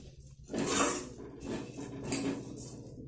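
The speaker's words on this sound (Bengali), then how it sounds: "তো দেখো আমি এটা সুন্দর করে নাড়িয়ে নিচ্ছি" A frying mixture with sugar is stirred in a pan, giving repeated scraping and clinking strokes of utensil against metal, close and moderately loud, with no talking.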